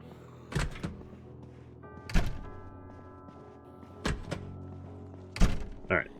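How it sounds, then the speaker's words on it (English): Furniture being dismantled in the Project Zomboid video game: four sharp, heavy thunks spaced a second or two apart over a faint sustained tone, close and fairly loud against quiet. "I would like to accelerate for dismantling the furniture here"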